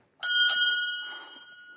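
A temple bell is struck twice in quick succession, close and bright, then left to ring with a long, slowly fading metallic tone.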